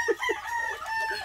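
Native chickens cluck in short, close bursts while a crowing call rises over them, all in a brief, busy farmyard moment.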